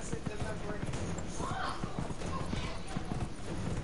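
Horse hooves clip-clopping in a steady trotting rhythm in Dragon Age: Inquisition, fairly close, with a brief whinny partway through and ambient game sound underneath.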